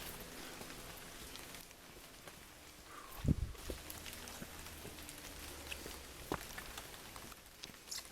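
Steady rain pattering through the Bako National Park rainforest in Borneo, a constant close hiss with a few scattered heavier thumps of drops and no talking.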